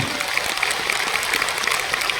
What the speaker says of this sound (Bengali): একটা জোরে হাততালি যাবে, প্রত্যেকে জোরে হাততালি